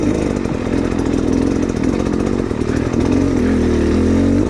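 A small Beta cross trainer dirt bike engine runs at a steady, loud, lugging low throttle, rumbling continuously up close with a slight rise near the end.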